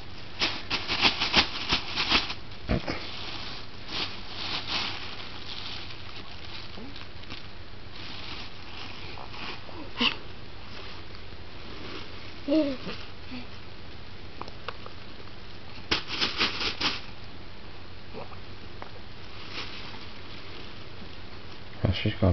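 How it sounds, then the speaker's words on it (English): A dog plays with a plastic bag indoors, producing irregular crinkling and rustling bursts, busiest at the start and again midway, against a steady low room background. "Or you can go back to playing with the plastic bag"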